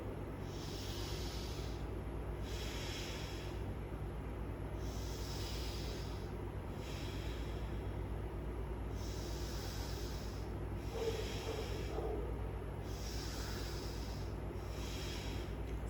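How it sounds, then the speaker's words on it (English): A slow, deep inhale taken during a pranayama breathing exercise for lung health, breath drawing in with the belly expanding, heard as soft repeated airy hisses over a steady low background hum, with no talk. "Inhale, belly expands."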